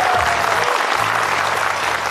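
A studio audience at a crosstalk comedy show in Shenzhen applauds, with dense, loud, continuous clapping throughout and a faint voice underneath.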